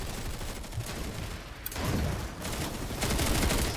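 Slug shotgun fire in the game PlanetSide 2 mixed with dense in-game battle noise: continuous crackling gunfire and fusillades, fairly quiet and steady, with no talk.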